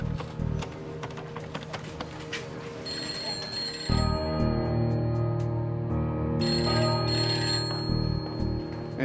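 A telephone rings in a radio drama of H. G. Wells' The War of the Worlds, its repeated bell tones sounding over music and background ambience.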